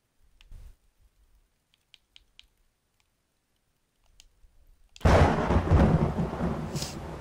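Thunderstorm in the survival video game 7 Days to Die, with a few faint ticks and patters that suddenly give way to a loud, rumbling crash of thunder and heavy rain lasting to the end.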